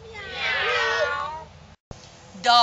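A person's voice imitates a cat, giving one long drawn-out meow with a wavering pitch, then a brief pause before a second short vocal sound begins.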